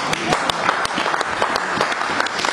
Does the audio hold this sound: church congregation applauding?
yes